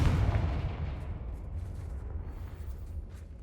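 Confringo fire-blast spell bursting in Hogwarts Legacy during a fight, one heavy booming explosion at the start that rumbles and slowly fades into a lingering roar.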